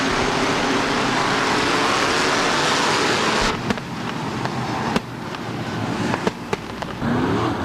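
Fireworks bursting over a speedway after a Victoria 200 race finish, a dense continuous roar of crackling and booming with several sharp distinct pops standing out near the end.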